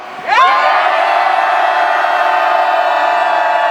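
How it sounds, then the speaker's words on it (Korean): Loud rally crowd at a public-sector union workers' rally in Gyeongbuk, South Korea, cheering and shouting together in a sustained roar that rises sharply and holds steady for several seconds. "함성 5초간 발사!"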